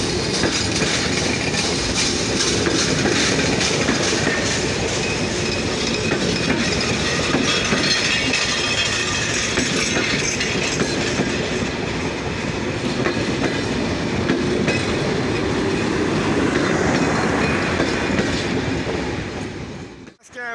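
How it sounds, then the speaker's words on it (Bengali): The Chilahati Express, the 806 down train, pulls into Saidpur station with a loud, continuous rumble of wheels and coaches that fades slightly at the very end. "চিলাহাটি এক্সপ্রেস ট্রেনটি বর্তমানে সৈয়দপুর ইন করলো।"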